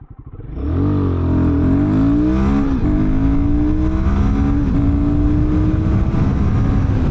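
A Royal Enfield Guerrilla 450 motorcycle engine revs up loudly and keeps accelerating, its pitch climbing steadily through the gears with a constant roar up close.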